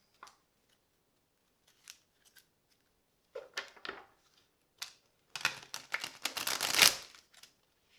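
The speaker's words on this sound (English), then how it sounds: "I still have not broken in this tarot enough to really be shuffling on camera" Santa Muerte tarot cards shuffled by hand, a quiet crisp riffling and sliding of card stock in scattered short bursts that swell into a louder, denser flurry near the end.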